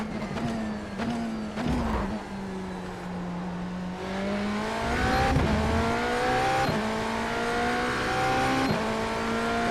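A GTP prototype race car's engine in a Le Mans sim racing game, loud and close, rising in pitch through repeated upshifts with brief dips between gears.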